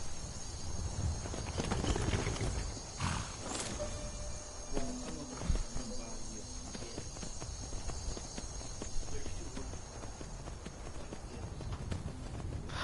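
Horse hooves clop along at a walking pace in Skyrim, steady close footfalls repeating throughout with light game ambience and a few sharper knocks mixed in.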